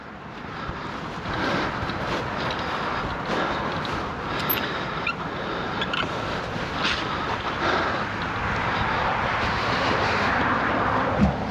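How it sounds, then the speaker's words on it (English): A 1976 Mercruiser 120hp four-cylinder boat engine on a Mark Twain boat runs steadily in a continuous rumbling drone with wind and water noise over it, gradually growing a little louder. "it's gonna have the melodious sounds of the 4-cylinder RMD running as it should"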